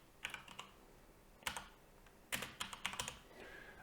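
Quiet typing on a computer keyboard during a PC setup: a few scattered keystrokes, a pause, then a quick burst of clicks, close but faint.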